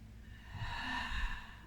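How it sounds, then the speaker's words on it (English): A close, soft intake of breath through the nose during a yoga stretch, a gentle airy sniff that swells over about a second before easing off. "Breathing in through the nose,"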